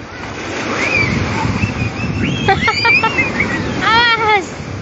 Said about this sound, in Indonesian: Kena ombak.